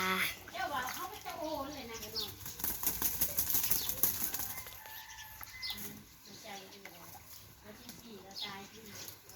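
A goose drinks water and flaps its wings, a soft burst of flapping close by amid bird noises, with a person talking over much of it.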